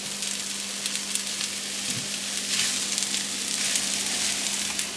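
Reheated food sizzles and crackles steadily as it pan fries, close and continuous, with occasional stirring scrapes.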